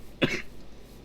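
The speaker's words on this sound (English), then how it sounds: "I do apologise for coughing every once in a while." A single sharp cough rings out up close, one short burst followed by quiet room tone, with no speech around it.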